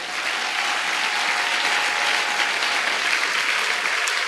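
A church congregation claps, a dense and even roar of applause from many hands that holds at full strength from start to finish, close and loud.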